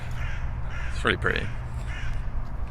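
Crows cawing outdoors on a foggy day near a motorway, a couple of harsh calls close together mid-clip over a steady low traffic rumble, with a person talking softly around them.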